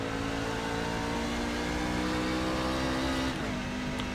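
A NASCAR truck in the iRacing simulator holds a loud, steady engine drone that drops abruptly in pitch about three seconds in as it brakes and downshifts, then carries on at a lower note.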